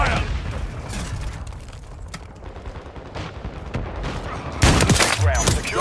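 Gunfire in the Modern Warfare 3 video game, rapid bursts and booms from an in-game battle with announcer-style voices, growing louder and denser near the end.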